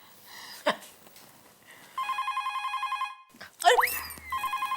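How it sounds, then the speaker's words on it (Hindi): A telephone rings twice in electronic trilling bursts, with brief clatter and a dog-like yelp between them, fairly close and clear. "फोन मैं उठा लूंगी।"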